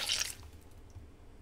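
A small object splashing into a fountain in South Park: The Stick of Truth, a single brief wet splash at the start that quickly fades into quiet ambience.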